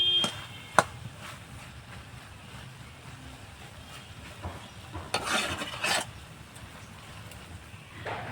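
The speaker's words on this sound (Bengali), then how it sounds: "এইভাবে কড়াইতে আমি আর একটু নাড়াচাড়া করে নেবো" Carrot halwa is stirred in a kadai, with a low background hiss and occasional scraping bursts of the spoon against the pan, one sharp knock near the start, quiet overall.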